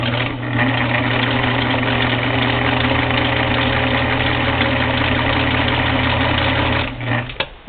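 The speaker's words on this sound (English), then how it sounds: "this is how the machine runs as an electric" Singer Model 237 sewing machine running steadily on its electric motor with a freshly adjusted belt, a loud continuous low hum and whir that holds evenly for about seven seconds before cutting off near the end.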